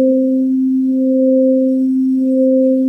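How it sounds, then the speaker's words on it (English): A Nord Lead 3 synthesizer in dual sine mode plays a loud, steady pure tone, while a second, higher sine tone pulses on and off three times over it. "Then we have the dual sine mode. Here we have two sine waves."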